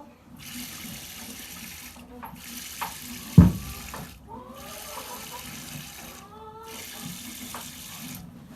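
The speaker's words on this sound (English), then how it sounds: "So, yeah, that's milking" Hand-milking an animal, with rhythmic bursts of milk streaming into a pail. Each squirt lasts about a second and is separated by short pauses, close and steady, with a single brief knock partway through.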